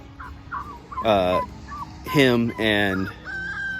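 A silkie cross rooster gives soft clucks, then three loud, close calls in a row, with faint low talk underneath.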